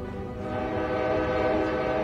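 A train from the Honkai Star Rail video game trailer, heard as a steady sustained horn-like tone over rumbling rail noise that swells slightly louder toward the end.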